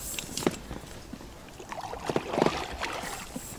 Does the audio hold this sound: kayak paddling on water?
yes